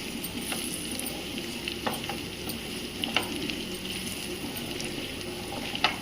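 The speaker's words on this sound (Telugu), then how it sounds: "కొంచెం ఈ మసాలాల్లో ఫ్రై అవనిద్దాము" Chicken pieces fry in oil with chicken masala, a constant close sizzle punctuated by repeated scraping clicks of stirring, with no voices.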